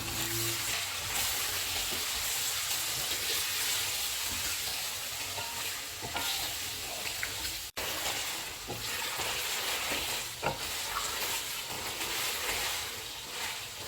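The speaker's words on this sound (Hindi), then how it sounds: "चिकन डालेंगे। चिकन का कलर चेंज होने तक इसको पकाएंगे।" Chicken pieces frying in a pan with onions and ginger-garlic paste, a continuous close hissing sizzle with occasional stirring scrapes throughout, steady and moderately loud.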